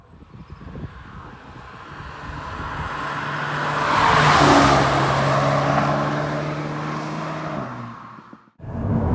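A VW Mk8 Golf GTI Clubsport accelerates on the road, its engine note climbing and swelling to a loud peak before easing off with a sharp drop at the end.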